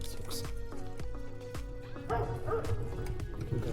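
A dog barks several times in short, sharp bursts outdoors on a road trip in Bulgaria, moderately close, with other background sound around the barks.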